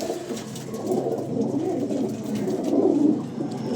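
Pigeons cooing steadily at close range, a low, rolling burble that swells and continues throughout with no talking.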